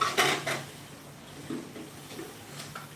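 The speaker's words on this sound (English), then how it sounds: "I hear her in there washing dishes." Dishes are being washed in a home kitchen, with clinks of plates and cutlery near the start and a few softer knocks and clatters after, heard from a room away with no talking.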